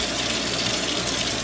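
A tap runs while someone washes their hands, a steady, close, hissing stream of water with no talk over it.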